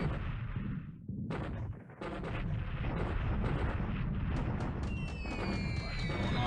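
Bombs and explosions rain down on the Clark Field runway in a WWII Pacific war strategy game set in December 1941, a dense, continuous rumble of blasts and gunfire-like bursts with no break.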